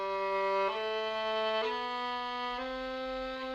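Four rising violin notes played legato in a single bow stroke, flowing smoothly from one pitch to the next with no gaps, close and sustained, no talk.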